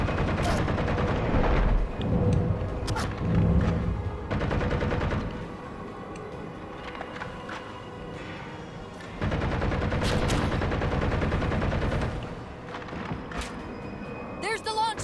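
Rapid gunfire bursts from a Halo video game firefight on Xbox, loud and sustained in two dense stretches with a quieter lull between, mixed under players talking.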